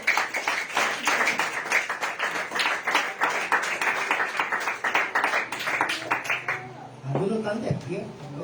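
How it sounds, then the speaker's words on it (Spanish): A church congregation claps during a Spanish-language sermon, dense rhythmic applause carrying for several seconds before fading out, with a voice talking as it ends. "Denle aplausos al Señor."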